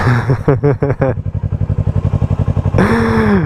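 R3 streetfighter motorcycle in first gear, loud and close: a lumpy, pulsing idle thumps evenly, then the engine revs sharply upward as it pulls away.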